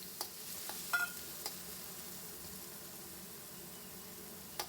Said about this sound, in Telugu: ఇప్పుడు ఇవి ఆయిల్లో వేసేసి మంచిగా వేగనిద్దాము